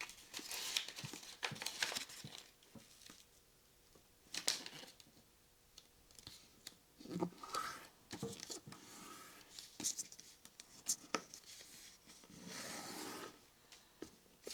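Paper is creased and folded in half for an origami tank turret: close, crisp crinkles and sharp rustling bursts of handling, irregular and fairly quiet, with no voice.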